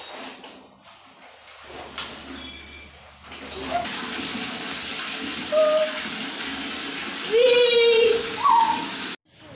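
Water runs from a tap into a bucket or tub while clothes are washed at home in Bangalore, a steady rushing flow that strengthens midway, with faint background voices and tonal squeaks over it.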